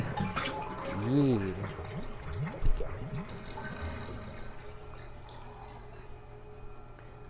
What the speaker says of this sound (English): It's full of dirt and water. Pull out the plug.